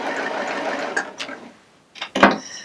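A Baby Lock Applaud cover stitch serger with a cording foot stitches yarn cording into a hem along a raw fabric edge. A fast, close, steady hum runs for over a second, then gives way to short bursts of stitching.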